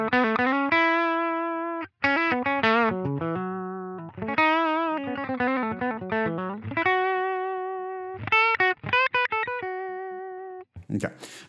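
Electric guitar played through a Line 6 Helix Deluxe Norm amp model with default cab and mic: clean, slightly driven single notes and short melodic runs with bends, sustained tones and brief pauses, played alone and close.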